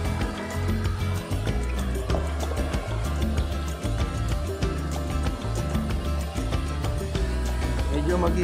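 A waterfall, the sixth of thirteen falls along a Bulacan trail, a dense continuous rushing of water, loud and steady throughout, with people talking underneath.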